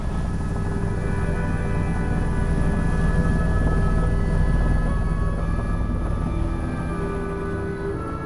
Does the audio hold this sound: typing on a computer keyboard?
no